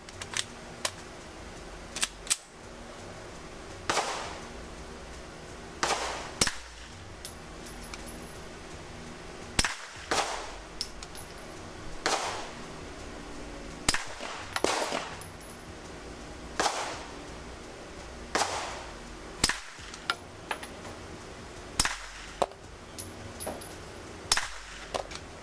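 Suppressed shots from a Bear Creek Arsenal Grizzly, roughly a dozen sharp muffled cracks fired at a slow, uneven pace over a steady background, fairly close with no talking.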